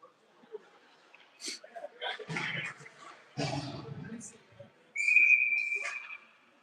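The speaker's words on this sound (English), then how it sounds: "Late with the whistle" A referee's whistle at a youth ice hockey tournament game in Manitoba gives one clear, sustained blast near the end, following scattered rink noise and brief voices.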